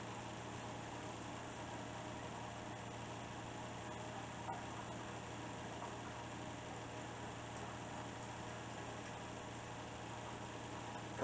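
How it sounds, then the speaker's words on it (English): Pump of a Gasland camping water heater used for an off-grid shower runs steadily and alone, a constant low hum with a faint rising change in tone and a small knock near the end. "You notice the pump, the sound of the pump's changing now."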